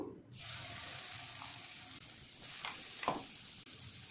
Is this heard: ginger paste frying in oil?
yes